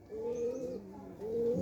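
Pigeon, a young bird caught in the rain, cooing in two close, soft, rolling phrases separated by a short pause, with faint background hiss.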